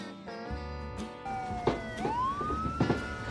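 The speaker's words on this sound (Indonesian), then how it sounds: "mereka dikagetin sama suara sirine dari polisi" Police car siren wailing in a tense scene, a rising and falling electronic tone over music and background rumble, with a couple of sharp thumps mixed in.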